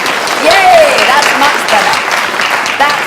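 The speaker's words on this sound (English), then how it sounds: "we'd like a better round of applause, I think." Theatre audience applause at a season-opening pre-show talk on a stage set: steady, dense clapping from a large crowd throughout, with a voice speaking over it at moments.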